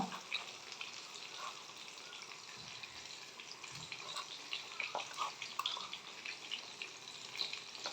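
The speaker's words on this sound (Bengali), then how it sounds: "এইভাবে করে সবগুলো ভেজে নেব" Chicken pieces fry in oil, a soft, continuous crackling sizzle with scattered pops and a few faint clinks, fairly quiet throughout.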